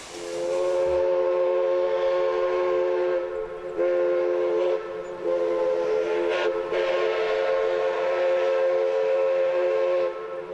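A steam locomotive on a tourist railroad sounds a long, loud, multi-tone whistle in several sustained blasts with brief gaps between them, heard clearly above a low rumble from the train.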